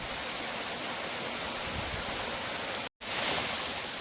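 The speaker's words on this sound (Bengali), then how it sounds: "কুয়াশা কুয়াশা হয়ে গেল, এত বৃষ্টি পড়ছে।" A dense, misty downpour roars steadily and loudly for several seconds, cutting out briefly near the end before the heavy rain hiss resumes just as strong.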